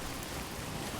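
Steady, even rain hisses in Death Stranding 2, a brief uniform patter with no voices over it.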